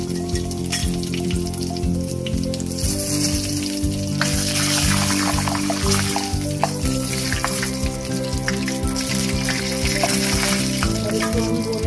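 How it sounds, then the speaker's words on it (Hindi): Green chili and cumin seeds fry in a pan, the cumin browning, with a steady, dense sizzle and crackle that runs the whole time at close range, loud and unbroken. "और इसको हम भूनेंगे, सब जीरा थोड़ा ब्राउन हो जाए"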